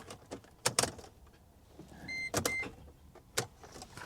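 A 2019 Silverado fails to start, giving only a few sharp, quiet clicks at irregular intervals, with faint mechanical rattles between them.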